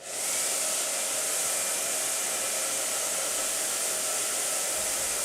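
A hair dryer blows with a steady, loud whooshing hiss, running continuously without pause, close by.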